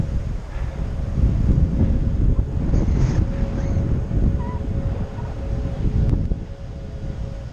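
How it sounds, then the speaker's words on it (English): Wind pounds the microphone during a bicycle ride on an elevated urban rail trail, a constant loud low rumble with uneven gusting swells and no clear speech. "I don't know if the soundtrack will be usable at all because of the wind."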